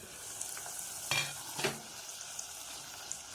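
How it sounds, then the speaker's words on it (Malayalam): Ivy gourd (kovakka) fry being stirred in a pan after cooking covered, with a quiet sizzle and a couple of distinct scraping stirs midway, close and without speech. "ഇതൊന്ന് ഇളക്കിയിട്ട് കൊടുക്കാം"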